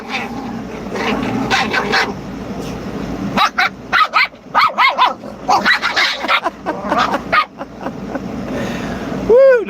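Several pet dogs bark in excited, overlapping bursts at close range, with yips and a rising whimper near the end, over a steady background hum and occasional voice.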